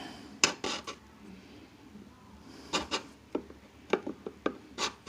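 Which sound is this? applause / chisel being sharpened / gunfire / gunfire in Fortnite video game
chisel being sharpened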